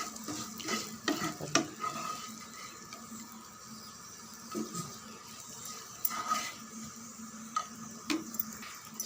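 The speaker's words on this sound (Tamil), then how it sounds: "வெண்டைக்காய் வறுவல் ரெடி ஆகிடுது" Okra stir-fry sizzling in a pan while being stirred, a soft steady frying hiss broken by scattered clinks and scrapes of the utensil against the pan.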